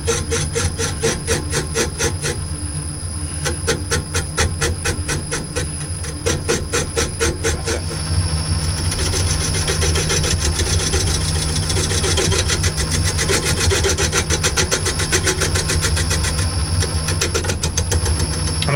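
A wood lathe turning and cutting a workpiece with the tailstock removed, running slowly while being trued. A steady, continuous mechanical hum with a fast repetitive rasping rhythm stays close and moderately loud throughout, with no talking.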